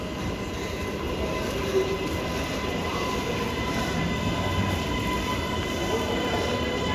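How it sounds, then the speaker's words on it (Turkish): A metro train arriving at a station rumbles steadily nearby, broadband rolling noise filling the scene with faint tonal hum and no break in loudness. "Metro geldi."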